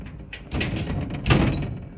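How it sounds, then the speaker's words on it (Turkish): A home door is worked open with one hand, giving handle rattles and a soft scraping, thudding swing at close range with no talking. "Tek elle kapı açmak çok zor oluyor be."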